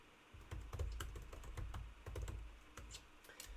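Someone types code on a computer keyboard in quick, uneven clusters of soft clicks over a low room rumble.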